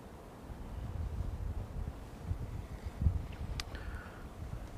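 Wind blows outdoors during a chilly day of fishing, a steady low rumble buffeting the microphone with a few gusts and faint distant noises.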